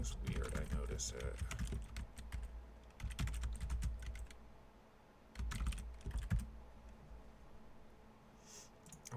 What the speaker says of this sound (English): I like to type everything in